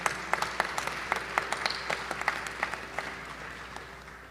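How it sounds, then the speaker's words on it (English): An audience at a Bharatanatyam arangetram applauds the vocalist, sparse distinct claps over a soft hall ambience that gradually fade out. "Let's give a big round of applause to the vocalist."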